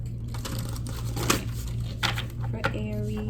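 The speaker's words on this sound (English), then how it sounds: "I have to shuffle this in 2 pieces because this deck is massive" A large, massive tarot card deck is shuffled in two halves, the cards riffling and slapping with crisp crackling bursts, close and fairly loud, with a faint steady hum beneath.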